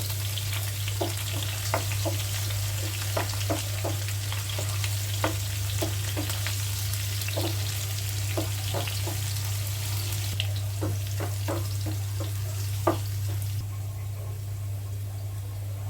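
Chopped onion and crushed garlic fry in hot oil with a continuous soft sizzle, punctuated by irregular clicks and scrapes of stirring, close and steady under a low constant hum, with no talking.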